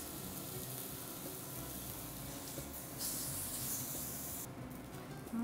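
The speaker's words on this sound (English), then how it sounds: "I'm gonna make sure we get it all seared on all sides." Sesame crusted ahi tuna steaks searing in a hot skillet, a steady broad sizzle and hiss with brief louder surges as the fish is turned.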